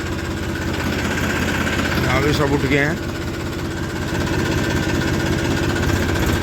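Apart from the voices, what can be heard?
tractor engine running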